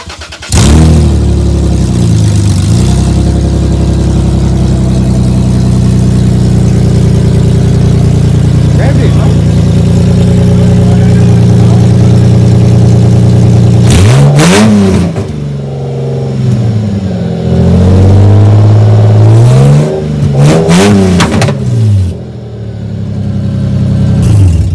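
A Lexus IS300 engine with open headers and no exhaust fitted idles roughly and then revs hard again and again, a very loud, raw bark that rises and falls in sharp bursts, with voices over it at times.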